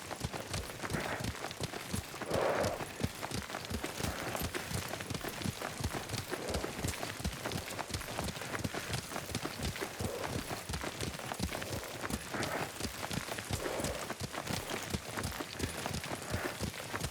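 Galloping horse hooves from a ridden horse in the video game Ghost of Tsushima, a fast, even clip-clop rhythm that carries on throughout at moderate volume.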